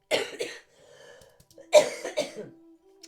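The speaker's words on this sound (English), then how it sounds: "I keep coughing" Two bursts of harsh, close coughing separated by a quiet pause, each made of a couple of quick hacks.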